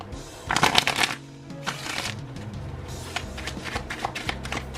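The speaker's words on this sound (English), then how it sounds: "let's get our other deck. I'm actually going to shuffle it" A tarot deck being shuffled close up, a quick riffling burst followed by softer shuffling and card handling.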